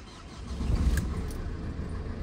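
A car engine starts and settles into a steady idle nearby after sitting unused for two months, a brief surge of cranking then a constant low running hum with no talking.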